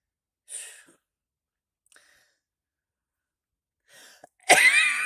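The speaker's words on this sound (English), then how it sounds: "I'm having a coughing fit." A person coughs through a short fit: a brief burst near the start, a faint catch midway, then a harsh, loud, sustained cough close to the mic near the end.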